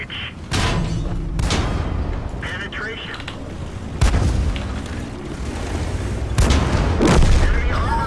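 Cromwell tank firing its main gun in a tank combat video game, heavy booming shots landing at intervals, with a few sharp blasts over a constant low rumble of engine and battle noise.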